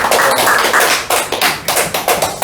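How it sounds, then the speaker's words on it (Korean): Church group clapping together in a room, loud and close, with the claps growing into rhythmic beats toward the end and no talking over them. "박수 한번 할까요?"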